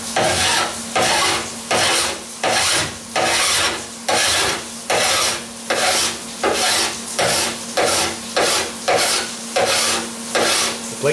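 Hand file rasping across the welded trunk metal panel of a 1977 Camaro Z28, about a dozen steady strokes in a regular back-and-forth rhythm, close and loud, with a constant low hum underneath.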